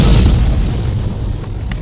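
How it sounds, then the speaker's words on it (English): A single heavy boom hits loud and close, then rolls off into a fading low rumble. "The cannon erupted in a burst of flame and thunder."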